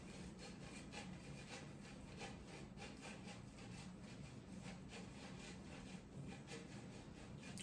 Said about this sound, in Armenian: Մեծ քերիչով քերում ենք։